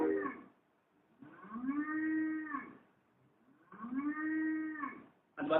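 A cow moos twice in long, drawn-out calls, each lasting over a second with a clear tonal rise and fall, close and loud, separated by quiet pauses, with the start of a third moo cut off at the end.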